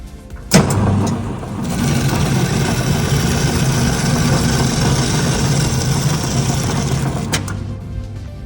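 An STvega VML H150 pumpkin and melon peeling machine starts with a sharp click, then runs with a steady, loud whirring hum for about seven seconds before clicking off and winding down.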